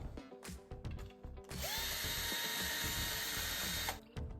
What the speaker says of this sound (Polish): Tutaj mamy wiertarkę, taką specjalną końcówkę, żeby nam się dobrze wykręcało.